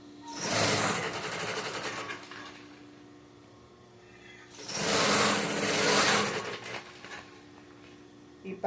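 A sewing machine stitches a safety seam along the edge of a fabric cosmetic bag lined with EVA foam, running in two steady loud bursts separated by a quieter pause.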